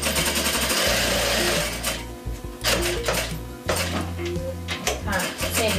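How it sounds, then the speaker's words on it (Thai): A sewing machine running a presser-foot-width seam along the edge of a pocket on baby pants, a loud continuous mechanical whir that pauses briefly around the middle and then resumes in steady bursts. "เพื่อนๆก็มาเย็บหนึ่งตีนผีนะคะ คือเอาตีนผีให้มันอยู่ริมขอบกระเป๋าพอดีอ่ะเนี่ย"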